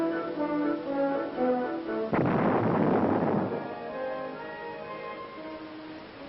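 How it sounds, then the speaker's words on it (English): An artillery projectile is fired at welded armor plates on an Aberdeen, Maryland proving ground. A single heavy blast rumbles up over steady background music and then fades away. "artillery projectiles are fired directly at the weld on each plate."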